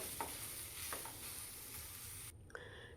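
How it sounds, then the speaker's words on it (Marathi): Chilli, garlic and ginger sauté in a pan for soyabean kebab, a steady close sizzle with occasional spatula scrapes, cutting off abruptly near the end. "मिरची लसूण आल्याचा कच्चेपणा कमी होईल हे असं सगळं पसरवून छान असं एक मिनिटभर परतून घ्यायचं आपल्याला"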